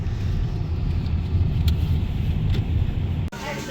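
A car travels along a road in the dark early morning, with a continuous low road rumble and engine hum heard from inside the cabin that ends with a brief thump near the end.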